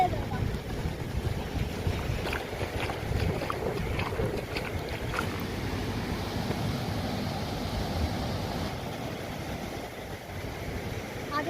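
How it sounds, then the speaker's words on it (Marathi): A boat motors along the Muchkundi river near Purnagad fort with a low, continuous engine drone, partly masked by wind buffeting the microphone. "मुचकुंदी नदीतून बघा बोटी जातात"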